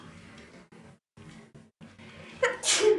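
A person in a classroom lecture sneezes once, a sharp loud burst near the end following quieter speech from the instructor.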